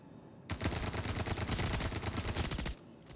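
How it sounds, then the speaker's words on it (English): An enemy blind-fires over a barrier in a video game: a loud, continuous burst of automatic gunfire with evenly spaced rapid shots that lasts about two seconds, then cuts off abruptly. "he's blind firing over the barrier at the middle"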